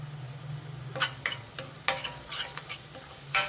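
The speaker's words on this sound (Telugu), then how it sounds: "ఈ ఉల్లికారం కొంచెం వేగనిద్దాం ఉల్లికారం కొంచెం వేగేటప్పుడే కొంచెం పసుపు వేసుకున్నా" Onion chili paste with turmeric frying in a pan, a soft steady sizzle broken by several sharp scraping stirs of a utensil against the pan.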